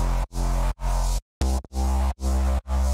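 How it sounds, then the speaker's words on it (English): A soft square-wave synth bass line from two layered Omnisphere plugins plays alone in a studio mix, made of loud, sustained, buzzy notes separated by short gaps with one longer pause. "It's two Omnisphere plugins, soft square bass"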